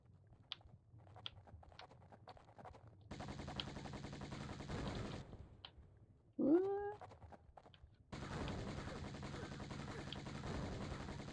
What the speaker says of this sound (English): I will shoot you with my firepower.